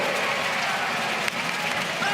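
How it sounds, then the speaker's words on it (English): The New Zealand Breakers' bench cheers and claps during a basketball game, a continuous wash of applause and crowd noise under commentary. "Good to see the Breakers on the bench still cheering and clapping"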